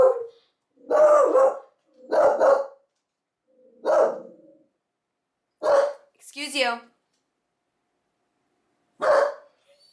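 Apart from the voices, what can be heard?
dog barking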